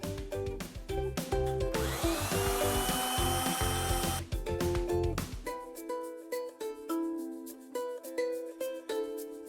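A pencil grinder deburrs the inside of a steel pipe, a shrill, close whine rising in bursts for a few seconds, then trailing into lighter tool clatter and rhythmic knocks with no voices.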